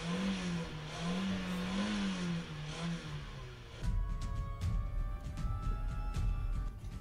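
A car drives past in a movie scene, its engine swelling and revving with a rising whine before giving way to rumbling road noise and clatter, moderately close with no talk.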